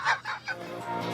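Clucking chicken ringtone playing from a phone, a few quick squawking clucks followed by a short sustained tone, fairly faint and brief.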